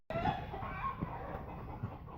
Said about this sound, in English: How you know you're in the country? Listen. Mail-in chickens.